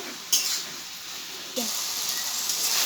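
Water spinach (kalmi greens) sautéing with salt in a pan gives a steady, close sizzling hiss, broken by a couple of sharp stirring scrapes.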